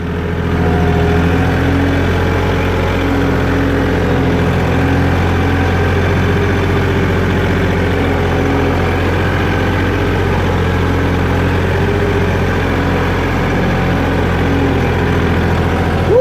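A farm tractor idles steadily and close by, a loud, even low engine drone holding for the whole stretch with no voices over it.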